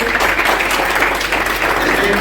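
Applause at a college Shirkhurma Milan party, dense continuous clapping from a crowd, loud and close throughout.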